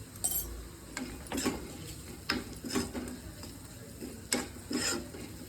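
Egg bhurji mixture stirred with a spoon in a pan, giving scattered scraping and clinking strokes at an uneven rhythm against a soft sizzling background, close by and fairly quiet.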